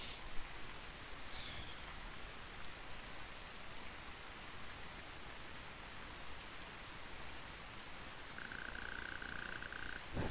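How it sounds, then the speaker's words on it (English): Steady hiss of rain in the Game Boy Advance game Final Fantasy Tactics Advance, a constant even wash of noise throughout, with faint brief tonal chimes on top. "Rain's getting worse. Better watch my footing."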